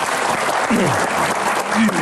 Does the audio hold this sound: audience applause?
yes